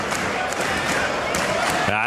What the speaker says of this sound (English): The crowd's getting anxious.